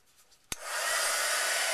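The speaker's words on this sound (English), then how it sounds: "What I'm gonna go ahead and do is take my heat gun" A heat gun setting a mulberry paper flower clicks on with a sharp snap after quiet handling, then blows in a steady, close, loud rush.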